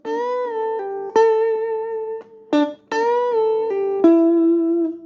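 A guitar plays the opening two bars, with sustained, singing melodic notes and smooth pitch shifts across a steady phrase, clear and close with no talking.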